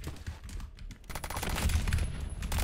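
Gunfire in the Phantom Forces shooter game, rapid bursts of shots that start sparse and then turn into a dense continuous fusillade, moderately quiet and with no talk.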